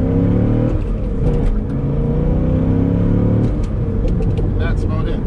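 A 2005 C6 Corvette accelerating along an open rural road, heard from inside as a loud, steady engine drone that rises through the revs and then eases, continuous and close.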